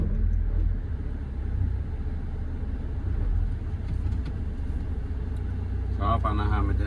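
A car engine turns over and rumbles with a low, steady drone, while someone talks over it.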